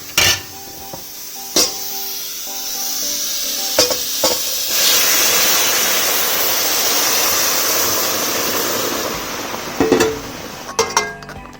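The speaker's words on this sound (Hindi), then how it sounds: "अब हम इस दूध को गाजर में डाल देते हैं।" Milk pours into a hot pan of cooking carrots with a steady, loud sizzle and bubbling, punctuated by a few sharp clinks of a spoon against the pan.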